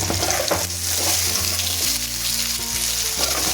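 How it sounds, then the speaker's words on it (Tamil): Potato stir-fry with salt stirred in a hot pan, a steady loud sizzle of frying with soft scraping of the spoon, close and continuous, with no voices. "உப்பு போட்டு லைட்டாக கிளறி விட்டுக்கிறேன்"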